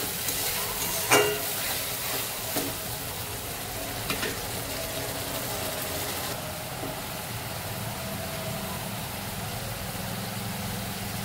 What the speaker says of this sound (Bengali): এবারে পেঁয়াজটা ভাজা হয়ে গেছে, আমি আদা, রসুন আর টমেটো বাটা একসঙ্গে দিয়ে দেব।